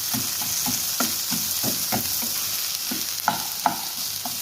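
Okra and onions fry over a low flame while a spatula stirs them in the pan, giving a steady, close sizzle with regular scraping strokes and a few sharper clicks against the metal.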